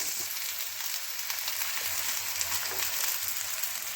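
Onions frying in a pan with ginger, for baingan bharta, crackle in a continuous close sizzle, with light stirring taps scattered through.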